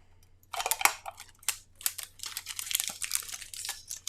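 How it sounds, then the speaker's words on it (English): Scissors snip and crinkle through plastic wrap on a sublimation mug fresh from the oven, a close run of irregular crackling cuts and rustles with brief pauses. "So we're just going to cut off this plastic wrap"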